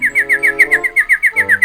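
A doorbell playing bird chirps, a quick steady run of about a dozen bright tweets, loud and close, over a faint low background tone.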